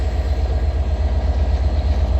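Train departing London Victoria station, with a steady loud rumble of wheels and traction throughout, close by on the platform, with no talk.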